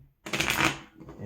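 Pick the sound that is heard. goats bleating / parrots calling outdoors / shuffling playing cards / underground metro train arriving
shuffling playing cards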